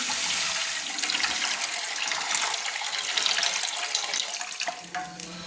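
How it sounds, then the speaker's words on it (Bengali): Water is poured into a cooking pot for a taro and prawn dish, making a loud, continuous rushing pour that ends with a few clunks of the pot near the end. "প্রয়োজন মতো জল দিয়ে দিচ্ছি, লবণ নয় জল দিয়ে দিলাম।"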